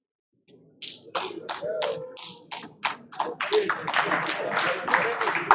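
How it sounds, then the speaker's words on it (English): Stakeholders clap for a certificate presentation at a chess federation election event, starting as a few scattered claps and building into denser, louder applause with some voices in the room. "Hand clap and adulation from the stakeholders"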